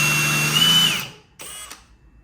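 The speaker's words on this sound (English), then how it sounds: "I'm gonna countersink some holes and then screw it down" Power drill countersinking holes and driving screws into a table-saw crosscut sled: a loud, close whirring run that winds down, then a second short, quieter burst.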